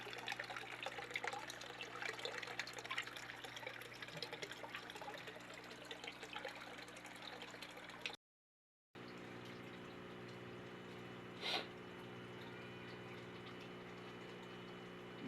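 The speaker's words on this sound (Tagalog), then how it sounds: "Magalaw pa yung tubig." Water gurgles and trickles steadily in a freshwater crayfish tank, a soft continuous churning with a pump-like hum, quiet and close, broken by a brief gap of silence.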